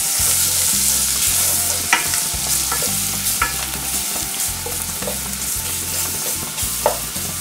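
Roasted curry powder stirred into cabbage curry frying in a pan: a loud, continuous sizzle broken by a regular rhythm of spoon scrapes and clinks against the pan, close up with no voices.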